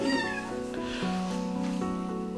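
A newborn kitten at its birth meows repeatedly in thin, rising cries, close and fairly loud, with an adult cat's caterwaul and soft household sounds in the background.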